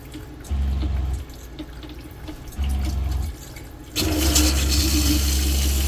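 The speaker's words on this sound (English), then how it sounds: "There's the hot water." Hot water runs from a faucet in a box van: two short gushes with pump hum, then a steady, louder continuous flow close by.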